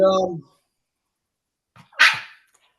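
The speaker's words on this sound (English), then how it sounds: "we got a dog chirping at us" A single sharp, high-pitched dog bark or yip after a brief spoken word, with silence in between.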